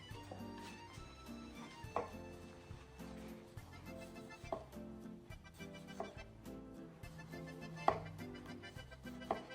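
A knife slices vegetables into thin 2-3 mm rounds for ratatouille on a board, giving a steady series of crisp chops and taps at an even rhythm, close and clear, with no talk.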